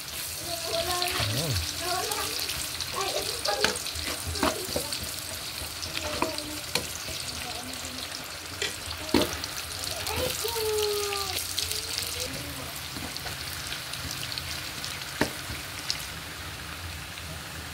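Chopped onions sizzling and frying in a hot pan for adobong sitaw, a continuous dense crackle with intermittent stirring clatter and a few faint background voices.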